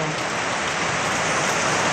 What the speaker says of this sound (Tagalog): lakas po ngayon ng ulan dito po sa amin